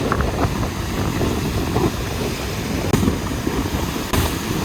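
Strong wind buffets the microphone at a waterfall in Iceland, a steady broadband roar with no letup, the rush of falling water likely blended in and two sharp gust thumps standing out.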